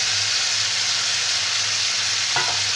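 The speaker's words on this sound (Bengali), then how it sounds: "এবার আমি সেদ্ধ করা পুঁই শাকটা দিয়ে দিচ্ছি।" Boiled Malabar spinach goes into a pan of frying mixed vegetables, which sizzle in a steady, bright hiss throughout, with a brief clatter of stirring near the end.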